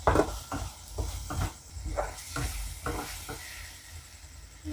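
Garlic ginger paste sizzling in a pan while cooking egg bhurji gravy, with repeated scraping strokes of a spoon stirring it close by.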